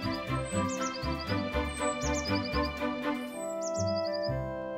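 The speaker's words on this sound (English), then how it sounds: "The birds were chirping." Birds chirp in short repeated high tweets over a bright, bouncy musical backing, the calls recurring every second or so.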